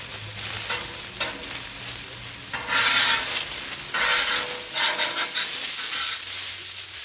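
Onions sizzle and fry loudly across a 28-inch Blackstone Pro Series griddle during a first cook and seasoning, a steady broadband hiss swelling in bursts as they're stirred, with no talk.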